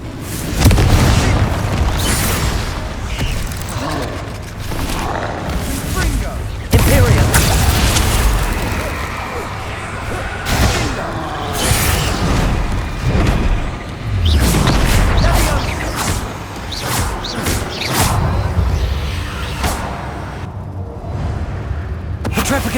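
Spell explosions from Bombarda and Confringo in the Hogwarts Legacy video game, with repeated loud booms and crashing blasts throughout a dense combat mix, and game voices shouting over the detonations.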